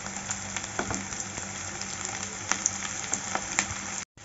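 Onion frying lightly in a pan with green chillies for mushroom curry, giving a steady soft sizzle with small crackling pops throughout and a brief cut near the end.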